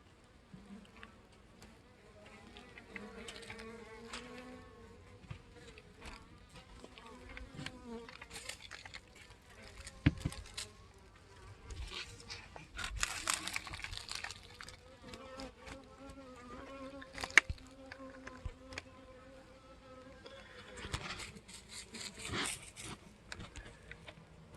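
Honey bees buzzing steadily around an opened hive during an August swarm inspection, a soft continuous hum with a few louder passes near the microphone and faint handling noises.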